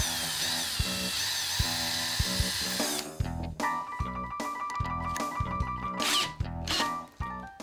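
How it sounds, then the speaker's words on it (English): Power drill boring pilot holes into a wall stud to mount an anti-tip furniture kit, heard as a steady motor whine that gives way to several loud, choppy bursts of drilling, close up with no talk. "Next, drill pilot holes."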